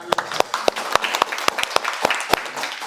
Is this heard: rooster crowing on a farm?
no